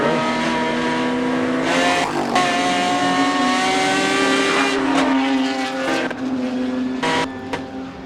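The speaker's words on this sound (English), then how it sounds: "Ferraris very quick in second gear, then Emanuele pops into third and loses a length" Ferrari and Jaguar E-Type race cars accelerate hard at a Goodwood Members' Meeting, engines rising in pitch through the gears with loud, sustained roars and brief drops at each shift, close and continuous for the whole stretch.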